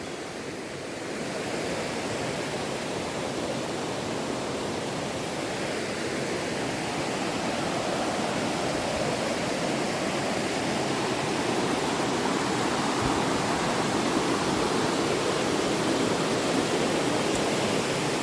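Continuous roar of rapids and a little waterfall on a river in Minca, Colombia, close and loud, a dense unbroken wash of churning water with no talking.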